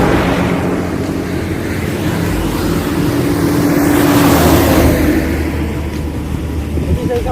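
Steady, loud road noise from a car passing close by along a noisy roadside near paddy fields, swelling to a broad peak midway and then easing off, with no clear talk over it.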